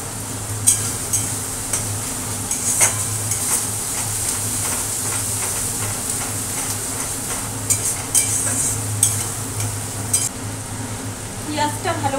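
Onions frying in a pan with a steady soft sizzle and hiss, broken by occasional scrapes and taps of stirring.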